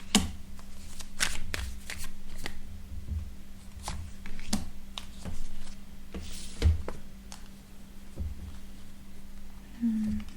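Tarot cards being shuffled close up in a quiet room, with rapid soft riffling and tapping of the deck in uneven bursts over a faint steady hum.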